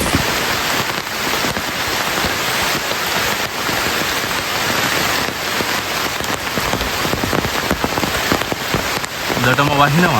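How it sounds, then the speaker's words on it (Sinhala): Heavy rain pours steadily and loudly throughout, a dense hiss of drops on surfaces, with a voice briefly speaking near the end. "හොඳටම වහිනවා"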